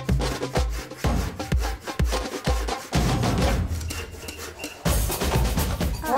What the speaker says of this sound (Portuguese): Corta com serrote.